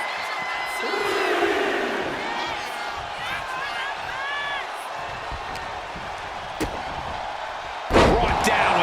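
Steady arena crowd roar with rising cheers and whoops in the WWE 2K25 wrestling video game, a broad continuous wash ending in a sharp slam near the end, with a commentator's voice faintly under it.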